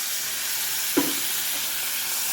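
Chicken and spices sauté in a pan, giving a steady, even sizzle with a single soft clatter of stirring partway through. No one speaks.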